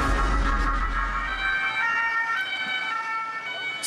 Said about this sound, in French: des véhicules sirènes hurlantes convergent vers la zone industrielle de Saint-Quentin-Fallavier, près de Lyon